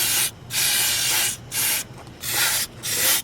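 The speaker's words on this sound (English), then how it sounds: "We're going to be using a little bit of air intake and carb cleaner." Air intake and carb cleaner sprays onto a Lexus 2JZ engine in five sharp hissing aerosol bursts, up close, with brief pauses between them.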